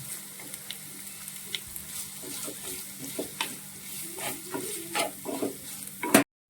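Banana stem and other Kerala curry ingredients sautéed together in a pan, a steady close sizzle with scattered stirring scrapes and clicks, ending in a sharp clatter.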